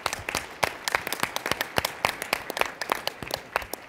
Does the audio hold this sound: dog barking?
no